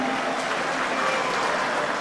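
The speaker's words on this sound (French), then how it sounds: "est-ce qu'on peut bien applaudir pour le Grand Kivu?" A crowd at a political speech by President Félix Tshisekedi breaks into steady, dense applause for the Grand Kivu region, holding an even, loud wash of clapping throughout with no voices.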